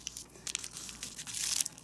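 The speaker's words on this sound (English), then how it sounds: "And let's fold it in half again. And unfold and lift these flaps up." Origami paper being folded and unfolded while making hand and wrist armor for a gauntlet. Soft, close crinkling and crumpling comes in short, irregular rustles that grow busier toward the end.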